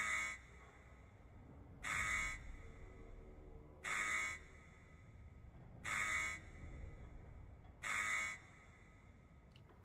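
Harsh electronic buzzer in the video game Post Trauma, sounding in five evenly spaced loud bursts about two seconds apart over a low ambient hum.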